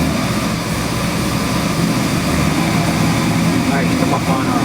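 A Chevrolet LS7 427 cubic-inch V8 performance engine built for a 1955 Chevy Bel Air runs with a steady, loud, dense rumble that holds throughout.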